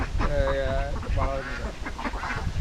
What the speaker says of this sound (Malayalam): നല്ല അടിപൊളി താറാവുകളാണ്